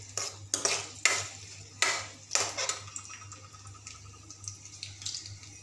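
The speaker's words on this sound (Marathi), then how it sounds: "हलकासा कांदा असा ब्राऊन कलरचा होतपर्यंत आपण त्याला मस्त परतून घेऊया।" Chopped onion sizzling and being stirred in a pan while it browns for a Nagpur-style pumpkin bhaji, with a few loud scraping stirs early on, then a steady soft sizzle.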